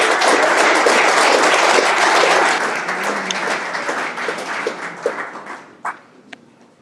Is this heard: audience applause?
yes